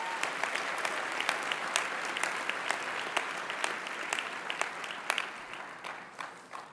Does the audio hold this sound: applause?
yes